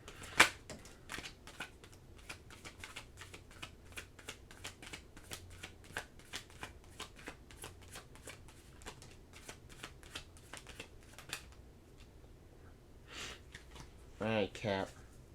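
Tarot cards are shuffled by hand in a long run of rapid, crisp flicking riffles close by, then a brief pause and a final burst of shuffling, with soft speech and breaths at moments.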